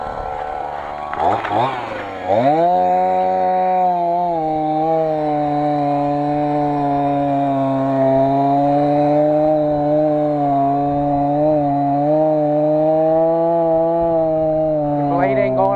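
A chainsaw starts with a few pulls, then revs up and runs at a steady high drone while cutting down a tree, loud and close throughout with a brief voice early on.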